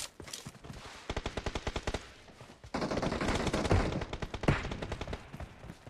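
Automatic gunfire in a Battlegrounds Mobile India team deathmatch: rapid evenly spaced shots in bursts, then a denser stretch of overlapping fire with a few louder cracks, moderately close, no talking.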